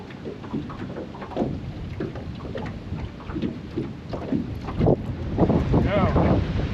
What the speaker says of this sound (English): And the wind's blowing though.